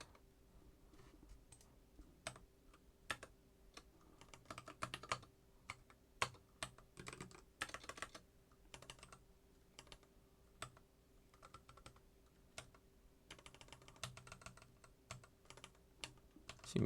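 Typing on a computer keyboard during a software setup session: quiet, irregular bursts of key clicks with short pauses between, close and soft, with no talk.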